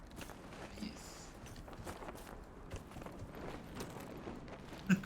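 Horse mount hooves from the video game Dragon Age Inquisition, walking in a quiet, even clip-clop rhythm at low volume over faint ambient background.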